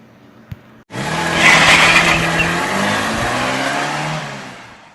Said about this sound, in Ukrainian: це їде автомобіль.